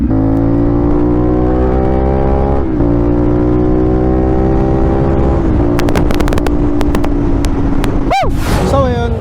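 A CFMOTO NK450 motorcycle engine idles and revs up close, a loud steady droning hum with pitch shifts, joined by sharp clicks and a brief higher-pitched rise near the end.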